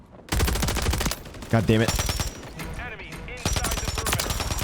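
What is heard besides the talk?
AMR9 sniper rifle gunshots in Modern Warfare 3 video game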